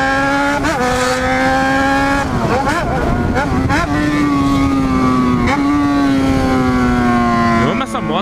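A Yamaha XJ6 motorcycle engine drones loudly and close, its pitch rising and falling with repeated revs and gear shifts, with a few voices faint underneath.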